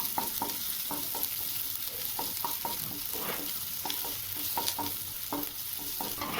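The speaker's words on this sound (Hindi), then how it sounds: "बारीक कटा हुआ अदरक लहसुन खूब सारा, यही तो टेस्ट लाएगा चटनी में। चलिए थोड़ी सी इसे भून लेते हैं।" Finely chopped ginger and garlic fry in oil for a chutney, a steady soft sizzle punctuated by repeated scraping stirs of a spoon against the pan at a regular rhythm.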